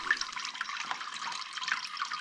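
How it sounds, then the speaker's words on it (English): Water drips and trickles steadily from a soaked Mammoth Twist 1200GSM car drying towel, a close, continuous patter of small splashes with no talk. "That's still dripping a little bit."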